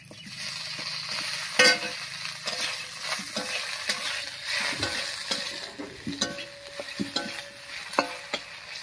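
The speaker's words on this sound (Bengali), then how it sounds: "ফোড়নের উপরে আলুটা দিয়ে একটু নাড়িয়ে নিয়েছি" A boiled potato is stirred into a hot spice tempering in a pan, giving a steady low sizzle with scattered scrapes and clinks of a spoon against the pan.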